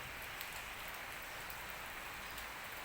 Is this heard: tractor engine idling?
no